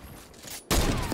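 A pump shotgun blast in a video game kills another player: a quiet stretch of game ambience, then one sudden loud, broad boom whose noisy tail rings on to the end.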